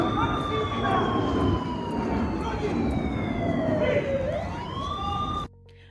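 Wailing emergency sirens sweep up and down over a dense London traffic rumble, fairly loud, ending abruptly.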